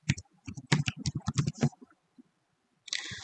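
A computer keyboard clacks out a password on a web app login screen in a quick run of close keystrokes, then a pause, then another brief burst of clicking.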